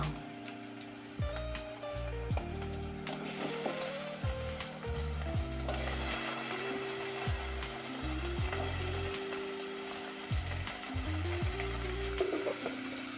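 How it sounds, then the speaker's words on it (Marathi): Chopped tomatoes sauté in a pan for a Konkani curry of fresh tender cashews, a soft steady sizzle with light ticking and stirring scrapes under background music. "जरा परतवून घेऊया. आता टोमॅटो टाकूया."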